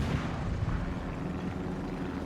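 Warship guns in World of Warships, on a Kagero-class destroyer's battle, make a dense, continuous low rumble of cannon fire and booms. The sound is loud and sustained, with no clearly separated shots and no talk.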